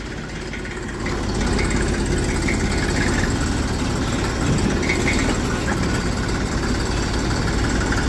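A small Massey Ferguson 35 tractor hauling a sugarcane trolley runs with a steady, rough diesel rumble that grows slightly louder after the first second and then holds even.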